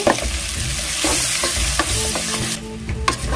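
Onions fry in a pan for a dry fish and egg pulusu, a dense close-up sizzle with faint stirring scrapes and taps throughout, no speech.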